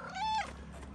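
A tuxedo cat gives a single clear, drawn-out meow, fairly close and loud, lasting under half a second before fading into quiet room tone.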